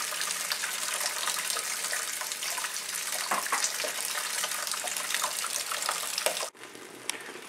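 Homebrew American amber beer wort pours steadily through a filter into a bucket, a continuous close splashing gush that cuts off abruptly near the end.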